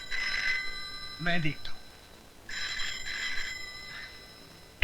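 An old-style telephone bell rings in two long trilling bursts indoors, bright and insistent, while someone speaks briefly between the rings.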